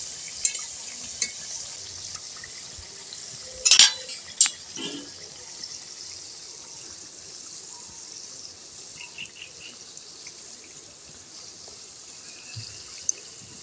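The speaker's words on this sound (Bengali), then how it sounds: "এবার আমি উল্টে পাল্টে লাল লাল করে ভেজে নেব।" Pitha frying in hot oil in a home kitchen, a steady soft high hiss of bubbling oil throughout with a couple of louder clattering bursts from turning the pieces, no talking.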